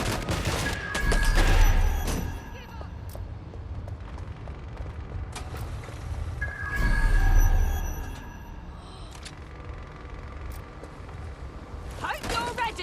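Gunfire in Watch Dogs Legion, with two loud rolling bursts of shots and booms separated by quieter stretches of combat noise, with a voice heard at moments.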